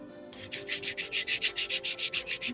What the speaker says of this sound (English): Let's go ahead and sand this one.